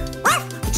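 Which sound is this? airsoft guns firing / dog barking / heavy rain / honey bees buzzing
dog barking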